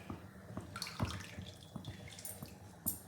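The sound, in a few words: water being poured for cooking pongal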